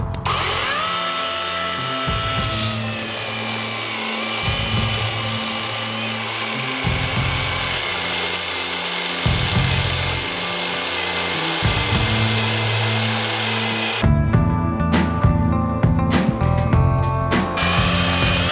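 A small Grosser 120HS cordless pruning saw whines and revs in bursts, cutting through wooden branches with rising and falling motor pitch, close up.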